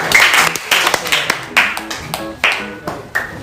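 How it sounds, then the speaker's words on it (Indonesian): A classroom of students claps for a group, with uneven bursts of close hand claps and taps, alongside a voice speaking. "tepuk tangan untuk kelompok 3"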